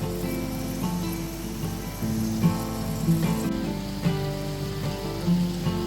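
Cumin and mustard seeds sizzle and crackle in hot oil for home-style fish cutlets, a steady close frying hiss with scattered pops over a faint background hum.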